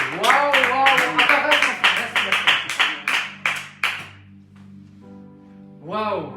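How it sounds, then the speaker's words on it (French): A church congregation claps in rhythm, producing a string of sharp, steady hand claps under a man's excited exclamations, before the clapping fades and he speaks again. "Est-ce qu'on peut applaudir le Seigneur pour cette parole?"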